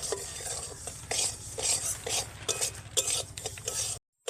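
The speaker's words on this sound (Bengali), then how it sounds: "ভালোভাবে সুজিটা ভেজে নিয়েছি" Semolina mixed with milk powder is roasted in a pan, and rhythmic spoon stirring scrapes repeat over a dry, gritty sizzle. The sound cuts to brief silence near the end.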